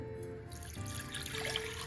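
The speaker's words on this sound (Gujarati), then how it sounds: "આજે પાણી છે તે આપણે મિક્સર જારમાં એડ કરીશું" Water trickles and splashes into a mixer-grinder jar, a soft, steady pour heard up close, fairly quiet throughout.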